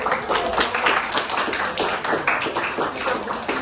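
Audience clapping at an academic forum presentation, a short burst of many hands clapping in a quick, uneven patter, moderately loud and continuous for a few seconds.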